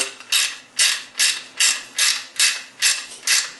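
A socket ratchet tightens a wheel nut on a junior dragster's rear wheel, giving eight crisp, evenly spaced bursts of clicking up close with nothing else heard.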